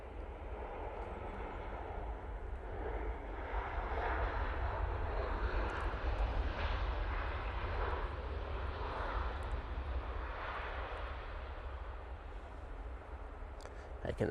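Aircraft flying a VOR approach into Manchester Airport, a steady, fairly distant engine rumble that swells slightly midway and then eases, with faint voices in the background.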